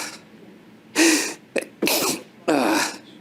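One person sneezes several times in a row indoors, bursts close and loud, with short sniffs and breaths between them.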